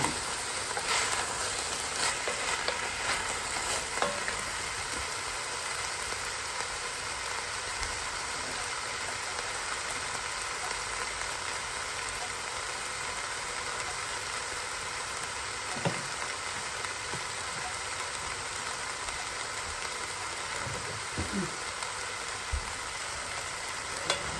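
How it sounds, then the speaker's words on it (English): Ground beef and Italian sausage brown in a pan with a steady, dense sizzle and crackle, close and continuous, broken by a few soft scrapes of a utensil. "We're going to cook our meats until they get nice and brown."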